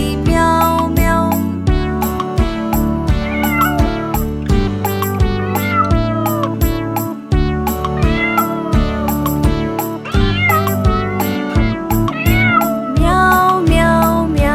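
A cat's meowing in a Hindi children's nursery rhyme, sung as bright repeated meows over steady, upbeat backing music throughout; the meows are likely voiced by a singer imitating a cat.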